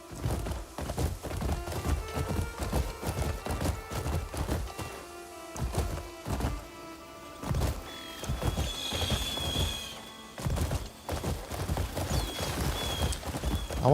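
Horse hooves galloping in the Crimson Desert video game: a steady, rapid thudding rhythm of clip-clops, loud and continuous, with faint whooshing and a brief high tone partway through.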